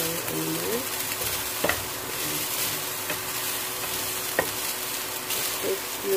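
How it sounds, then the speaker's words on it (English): Rice and garlic fry in a dry pan without oil, giving a steady close sizzle with occasional scraping taps as the mixture is stirred. "mix the rice and the garlic"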